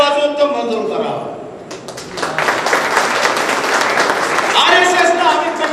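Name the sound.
audience clapping to approve a resolution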